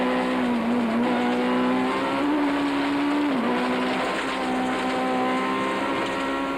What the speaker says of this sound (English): Take note also of the excessive wheel spin in the mud, with the engine constantly hitting the rev limiter.